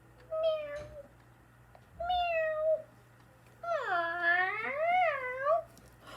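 A cat meows three times, two short calls followed by a longer, wavering meow, fairly close and clear against a quiet background.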